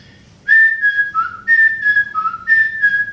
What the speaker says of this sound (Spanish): el silbido es muy simple, fíjense cómo es.